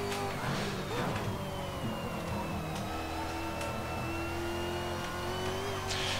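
A V8 Supercar races around a circuit at Barbagallo, its engine note loud and steady with rising and falling pitch as it accelerates through the lap, heard without talk.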